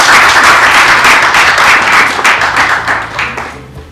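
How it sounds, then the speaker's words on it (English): A room of listeners at a mobile app competition claps loudly and densely, the applause close and full before thinning and fading out over a few seconds. "Let's give him a big round of applause"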